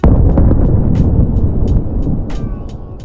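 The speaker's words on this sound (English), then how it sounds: "the explosion sends a wall of water towering up to the heights greater than a nearby bridge" An explosion in water beside a bridge in New York City gives a loud, booming burst with a heavy rumbling roar that slowly fades, joined by a few sharp crackles.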